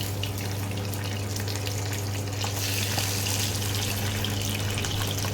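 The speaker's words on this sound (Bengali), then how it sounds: "প্রথমে মাছটা ভেজে এগুলোকে এবারে আস্তে আস্তে ছেড়ে দিচ্ছি।" Pabda fish frying in mustard oil in a pan on an induction cooktop, giving a loud, steady, dense sizzle that runs unbroken from start to finish over a low electrical hum.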